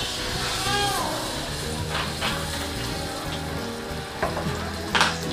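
Oil added to a pan with garlic and onion for a dried fish curry sizzles with a steady crackling hiss, close by, with a few light clinks and scrapes of stirring.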